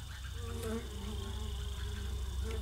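Bees buzz in a puzzle adventure video game, a continuous droning hum with wavering tones holding steady throughout, over a low rhythmic background.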